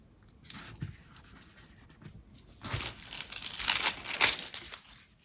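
Planner stickers being handled and peeled from their sheet, with crinkly paper crackles and tearing peels in bursts that grow busier toward the end, close and fairly quiet, with no talking.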